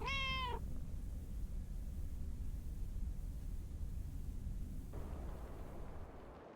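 A cat meows once in the video game Lake, a short harmonic call at the very start over a steady low background hum that carries on alone.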